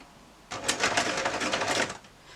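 Sewing machine stitching fabric on a home clothing DIY job, a close, steady run of rapid needle clatter lasting under two seconds and then stopping.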